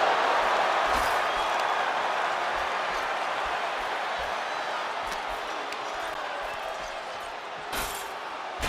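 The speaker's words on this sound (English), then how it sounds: "And listen to this capacity crowd." A capacity arena crowd roars in the WWE 2K26 video game during a Hell in a Cell wrestling match, a dense, steady wash of cheering that holds loud throughout with a sharper burst near the end.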